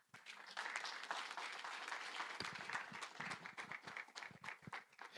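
An audience at a wealth creation and life skills training event bursts into a sustained round of dense applause, many hands clapping at once, loud and continuous for about five seconds with no talk over it.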